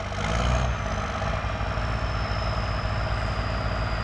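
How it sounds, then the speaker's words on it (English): Case tractor with a 6BT diesel engine idling steadily close by, a dense, even low rumble with a faint high whine running throughout and no talk. "Pretty sure this case runs a 6BT engine in this. Sounds pretty good."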